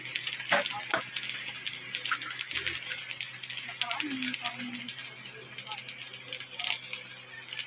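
Egg fries with dried fish (tuyo) in a hot pan, giving a steady close sizzle with scattered crackles and pops, while someone talks briefly over it.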